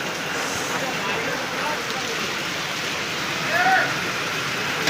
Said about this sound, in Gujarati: વરસાદ શરૂ થઈ ગઈ